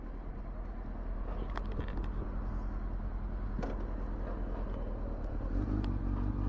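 A car engine running steadily while driving, all cylinders firing after rust repair work, a continuous loud drone with scattered light clicks and road noise throughout, no talk.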